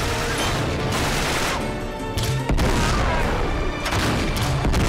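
Grenade launcher blasts and gunfire from the video game Uncharted 3 Drake's Deception ship level, loud repeated booming explosions mixed with bursts of automatic fire, with a sharp blast at the midpoint and dense battle noise throughout.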